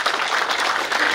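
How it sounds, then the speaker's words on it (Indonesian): Audience applause at an SPSI anniversary celebration, a dense, even wash of clapping from a crowd that holds steady throughout the short burst. "Tepuk tangan buat teman-teman semua"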